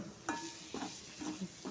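A spoon stirs gravy in a pan after fennel powder goes in, giving soft scraping strokes about every half second with a faint sizzle beneath, heard close and quiet.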